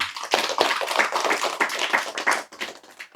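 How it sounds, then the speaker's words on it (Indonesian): A live audience at a campus religious gathering claps briefly, a close, uneven patter of hands that thins out after a few seconds. "Tepuk tangan untuk Mr. Cem."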